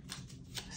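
A quick riffle of tarot cards being shuffled up close, a soft papery flutter in a couple of short bursts.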